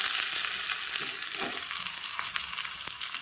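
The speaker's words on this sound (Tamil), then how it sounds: "இதெல்லாம் போட்டு நல்லா பொரியட்டும்." Mustard seeds, fenugreek, cumin, crushed garlic and onion frying in hot sesame oil give off a loud, dense, steady hiss up close, with faint crackles and pops scattered through it.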